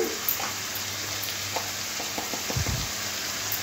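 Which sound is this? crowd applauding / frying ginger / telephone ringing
frying ginger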